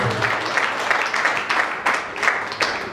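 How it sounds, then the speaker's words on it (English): Church congregation clapping hands during a worship service, a steady crowd of claps with sharper accents roughly every half second, fairly loud and close with faint voices mixed in. "Clap for Jesus."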